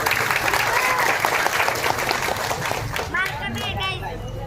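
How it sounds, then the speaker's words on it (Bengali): An audience at a Mahalaya gathering breaks into applause, a dense, close wash of clapping that fades slightly toward the end, with a voice speaking over it. "আমার পক্ষ থেকে আপনাদের জন্য একটা হাততালি"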